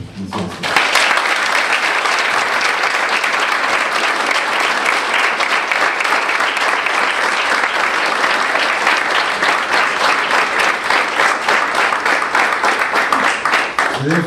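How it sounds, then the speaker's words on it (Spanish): An audience at an academic homage to Professor Javier Alba Muñoz gives sustained, even applause, with close, dense clapping holding steady from start to finish. "para quien pido un fuerte aplauso para poder iniciar esto"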